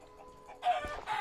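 A Minecraft chicken lets out a couple of short clucking calls after a quiet moment, fairly faint and close, with no talking.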